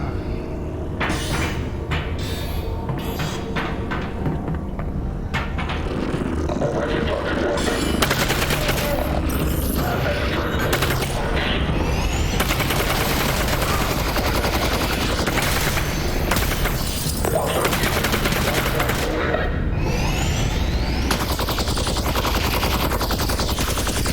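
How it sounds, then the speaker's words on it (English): Sustained SMG fire in Half-Life: Alyx, dense rapid bursts of automatic gunfire rattling loudly and almost without pause, with booming impacts mixed in and no voices. "SMG versus SMG, and that guy lost"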